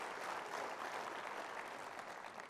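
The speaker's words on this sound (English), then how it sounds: "they deserve a big round of applause" An audience claps steadily in an even, close wash of applause lasting a couple of seconds, with no voices over it.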